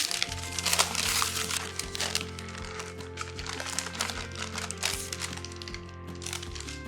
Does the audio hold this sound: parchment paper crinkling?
yes